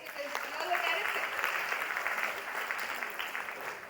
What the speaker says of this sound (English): Let's have a round of applause for you guys because you all were terrific.